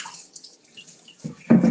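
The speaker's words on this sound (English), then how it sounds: "let me just give this a rinse" Tap water runs and splashes into a bowl being rinsed for a kale salad, a short quiet trickle that swells into a louder gush near the end.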